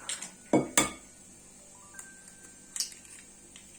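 Cream pie batter with eggs being stirred in a bowl, with a spoon clinking sharply against the dish a few times amid quiet scraping, close and otherwise calm.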